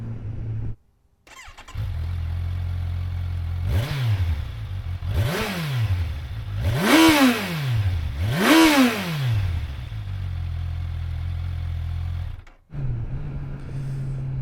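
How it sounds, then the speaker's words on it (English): A Kawasaki Versys 1000 motorcycle with stock exhaust idles steadily, then revs hard four times in rising bursts, each roar climbing and falling back before settling into idle again. "let's take a listen to this stock exhaust of the Versys"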